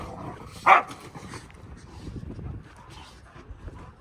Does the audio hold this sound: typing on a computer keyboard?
no